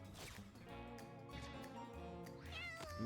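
Cartoonish cat meows in a video game, rising and falling tones over busy game music, loud and close with a longer yowl near the end.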